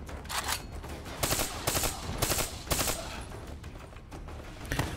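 A three-round burst rifle fires in Call of Duty Black Ops 3, giving several rapid clusters of loud, sharp shots in close succession that repeat over a constant background of game noise.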